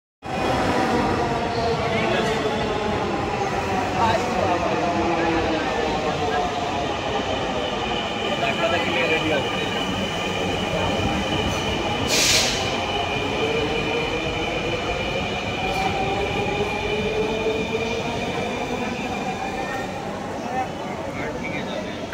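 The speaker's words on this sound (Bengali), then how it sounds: "ট্রেনটি নির্ধারিত সময়ে এসে দাঁড়ালো।" A Bangladeshi metro rail train pulls into a station platform with a loud, continuous rolling roar and a rising whine, then a sharp brief hiss near the middle as it comes to a stop.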